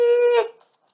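A voice mimics car brakes screeching as a car stops too quickly: a single short, high, tonal squeal under half a second long that fades quickly into quiet.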